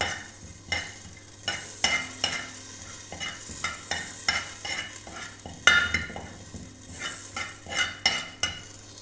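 Cumin seeds roast dry in a pan, a faint crackle beneath frequent scraping strokes of a spoon stirring them, close up with a low steady hum behind.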